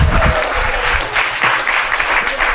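Audience at an All India Kavi Sammelan poetry gathering applauding loudly and steadily, a dense wash of clapping filling the short moment without pause.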